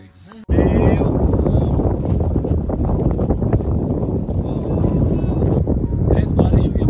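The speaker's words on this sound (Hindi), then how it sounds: "हवा चल पड़ी है बहुत ज्यादा" Strong wind on a Himalayan mountain trek buffets the microphone in a constant, loud roar after a sudden start, with faint voices beneath.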